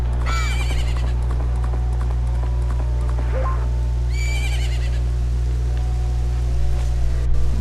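A horse in the video game Zelda: Majora's Mask trots with soft repeated hoofbeats over a steady low game hum, with brief bright chiming effects rising above it at two points.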